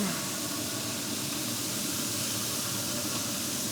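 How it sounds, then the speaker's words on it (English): Ribs basted with mop sauce on a pellet grill give off a continuous, loud steaming hiss that stays steady and even throughout, with no voices. "Getting that steaming going"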